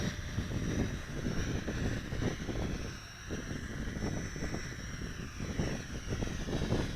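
A JJRC H9D quadcopter drone runs its motors in a breezy outdoor setting, giving a steady, fairly faint whirring buzz mixed with wind rumble that carries on throughout without speech.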